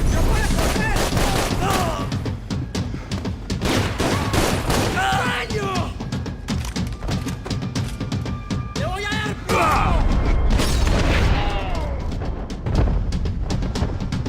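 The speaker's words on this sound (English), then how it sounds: "his gun's still going off" Sustained rapid gunfire in a video game, loud and close, with bursts of shots and impacts piling up over the whole stretch, mixed with whooshing effects and voices talking underneath.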